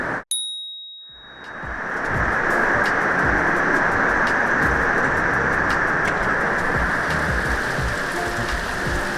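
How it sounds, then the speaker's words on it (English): Heavy storm rain pounding on a houseboat in a Louisiana swamp, beginning after a short ding and brief quiet, then a loud, dense, constant hiss of drops hammering the roof. "It was only supposed to be a little storm at sunset, and it turned out to be an all-night storm until sunrise."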